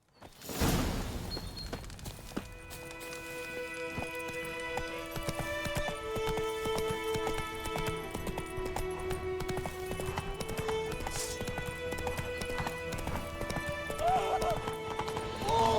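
Roach the horse galloping in The Witcher 3, with rhythmic clip-clop hoofbeats running throughout, close and steady over background game music, ending in a whinny.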